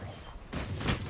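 Gunfire in the tactical shooter Valorant during a competitive match: a burst of rapid, overlapping shots that starts suddenly and holds at moderate loudness for about half a second.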